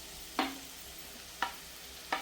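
Chopped tomatoes stirred in a frying pan, with three short scraping, sizzling strokes spaced about a second apart over a quiet background.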